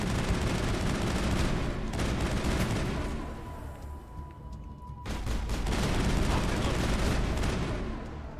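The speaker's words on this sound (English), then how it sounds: "So much firing." Sustained gunfire in the Mass Effect 1 video game, dense overlapping shots and bursts filling most of the stretch, easing off briefly in the middle before resuming loud and continuous, with voices mixed in.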